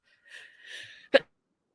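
A single sharp sneeze bursts out near the end, brief and loud, following a short stretch of breathy vocal sound before it and fading into silence.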